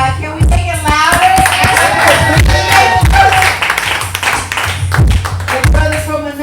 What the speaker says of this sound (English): Can you get a round of applause, please? Can we make it louder?